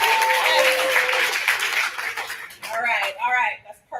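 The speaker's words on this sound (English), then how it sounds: "So we're gonna practice clapping." A conference audience claps in practice, a burst of applause that fades out after a couple of seconds while a speaker begins talking over the tail end.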